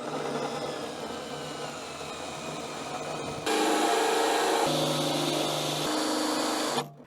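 A power drill runs continuously while boring a hole through a van's body for a solar panel entry point, its motor pitch shifting partway through as it bites in, then winds down at the end.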